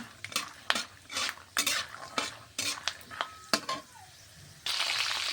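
Nuts frying in oil in a pan over low to medium heat: repeated sharp spoon scrapes and clinks of stirring over a continuous sizzle, ending in a louder, steady hiss.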